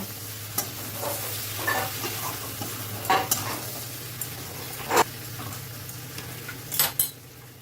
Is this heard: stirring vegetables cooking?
yes